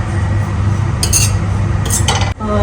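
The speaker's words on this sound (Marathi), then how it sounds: "नारळ टाकलंय ओला नारळ तर याला मीडियम फ्लेमवर थोडस लालसर होईपर्यंत परतून घ्यायचं हलकं परतायचं" Fresh grated coconut sautéed in a pan over medium flame, heard as a steady low frying hiss with a few brief metallic spatula scrapes and clinks against the pan, loud and close, no voices.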